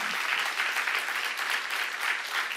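Steady congregation applause during a church seminar on Genesis, an even, continuous wash of clapping, moderately distant, with no voices over it.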